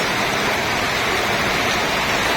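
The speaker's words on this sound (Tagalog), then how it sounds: "Matindi ang ulan mga kabokals. Oh, ang lakas." Heavy rain pours down steadily on a farm, a loud, dense hiss with no breaks and no voices.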